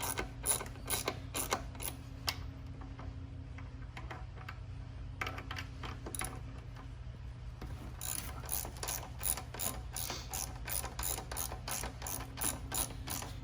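A ratchet with a 12 mm socket loosens the muffler bolts on a Venom Motorsports x22GT 250cc motorcycle, giving rapid, close metallic clicking in repeated bursts with brief pauses, and no talking.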